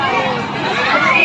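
Dense crowd hubbub at a decorated Thane market during a celebration for the arrival of Lord Ram, a steady wash of many overlapping voices filling the short stretch with no single speaker standing out.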